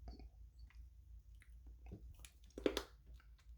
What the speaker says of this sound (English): That shell was super hard, but as soon as you start chewing it, it's actually breaking down into gum